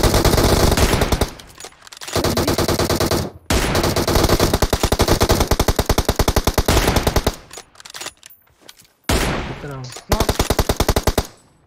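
Rapid automatic gunfire from the BGMI battle royale game rattles in long loud bursts with brief pauses, and a voice talks faintly underneath.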